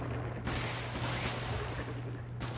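Loud, dense bursts of rapid gunfire in quick succession in the video game Helldivers, with a steady low hum underneath.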